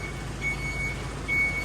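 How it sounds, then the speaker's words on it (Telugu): A lorry backs down a narrow lane under a low, steady engine rumble while its reversing alarm gives two long, even beeps. "ఇప్పుడు ఇదే వెనక రివర్స్ చేసుకుంటా ఒక 1/2 కిలోమీటర్ అయితే వెళ్ళాలి."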